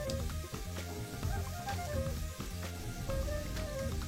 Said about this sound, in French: Et on va jeter les oignons dans la poêle.